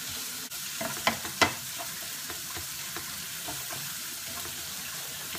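Curried egg frying in a pan on a gas hob, a continuous close sizzle with two sharp knocks early and a run of soft stirring scrapes, no voices.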